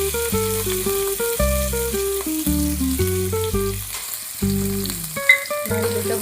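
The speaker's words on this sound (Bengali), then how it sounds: "তেলটা হয়ে গেছে, নারকেল কুচি দিয়ে দিলাম।" Chopped coconut sizzles in hot oil with a continuous crackling hiss, while a steady melodic tune plays over the frying.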